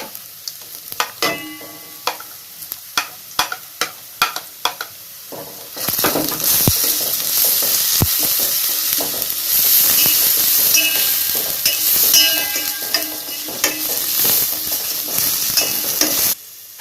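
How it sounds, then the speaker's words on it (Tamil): Onions with ginger garlic paste frying in a pan for egg biryani: a few sharp stirring knocks first, then a loud, steady sizzle swells in and holds to the end, with scraping stirs throughout. "இப்போ வந்து இஞ்சி பூண்டு பேஸ்ட்டு சேர்த்துடலாம்"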